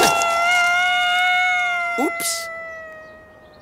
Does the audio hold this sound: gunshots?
no